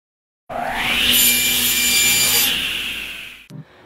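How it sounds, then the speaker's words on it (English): Two sheets of plywood are cut down to size in a workshop for a desk build. One loud cut lasts about three seconds with a harsh, bright rasp, then a short knock sounds as it ends. No one speaks. "I'm going to be cutting my two sheets of plywood down to their proper dimensions"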